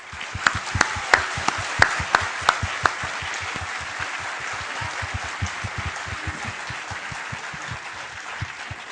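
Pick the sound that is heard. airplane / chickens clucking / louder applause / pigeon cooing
louder applause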